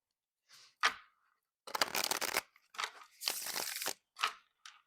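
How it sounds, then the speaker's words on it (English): Riffle shuffles of an oversized tarot deck, several separate bursts of crisp papery rattling with short pauses between, close and fairly loud with no talking. "it shuffles like a freaking dream"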